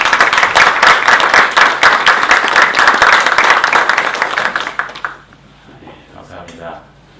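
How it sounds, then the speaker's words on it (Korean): A church congregation applauds as a pastor comes forward to preach at a worship service, steady dense clapping for about five seconds that then drops away into quiet room tone. "나오실 때 박수로 맞아주시기 바랍니다."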